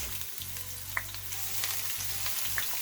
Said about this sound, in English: When the oil is hot enough, I am going to add my smoked meat